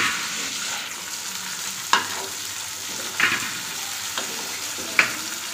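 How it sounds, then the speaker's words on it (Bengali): Fish frying in a pan gives a steady, close hiss of sizzling oil, with a few sharp utensil clinks and scrapes spaced a second or so apart. "এখানে মাছ ভাজা হয়ে যাচ্ছে"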